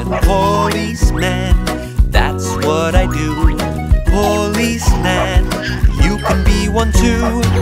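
Cartoon dog barking in a children's sing-along song about a policeman and his doggy: short, bouncy yips and woofs mixed into loud, upbeat music with singing.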